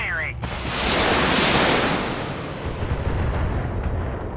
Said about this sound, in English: Drop the PPC and just fire the LRM-10.